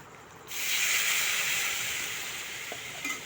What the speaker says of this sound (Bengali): এবার আমি এতে জল ঢেলে দেব।